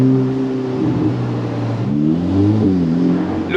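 A Ferrari Portofino M with its roof off, accelerating at low speed: a close, steady engine note that rises in pitch through the revs, dips briefly at a gear change, then climbs again.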